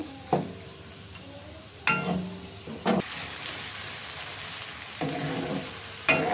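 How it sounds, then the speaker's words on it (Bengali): Three cups of chopped onions fry in mustard oil in a pan for a goat meat curry, a soft, steady sizzle with a few louder spatter and stirring clatters at irregular moments. "আমি প্যানে দিয়ে দিচ্ছি তিন কাপ পেঁয়াজ কুচি এবং পরিমাণ মতো সরিষার তেল পেঁয়াজটাকে একটু হালচে ভেজে নিব"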